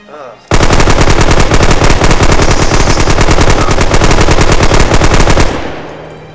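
A long, loud, sustained burst of MG34 machine gun fire in the video game Red Orchestra, rapid even rounds hammering for about five seconds before cutting off into a fading echo.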